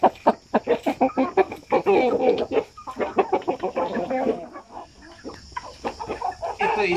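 Shamo Aseel chickens, about six months old, tall and heavy, clucking and calling over and over, loud and close, with the sounds overlapping in a busy, uneven rhythm.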